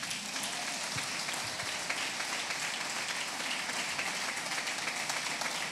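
Congregation in a church applauding, a dense, continuous wash of many hands clapping at a steady loud level throughout.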